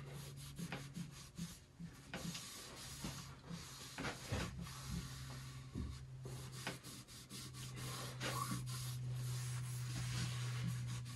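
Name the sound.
wiping excess stain off an oak nightstand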